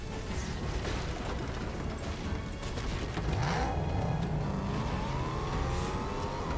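Game-style car engine sounds rev and whine under a busy, noisy mix, pitch sweeping upward in the second half.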